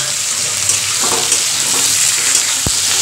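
Spice masala frying in a pan for a Bengali home-style potato dish, a steady close sizzle with light stirring scrapes and a sharp clink near the end, no talk.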